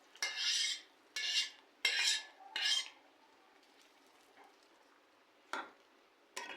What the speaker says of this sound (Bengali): এবার ভালো করে লাড়ে চেড়ে মিশিয়ে নিব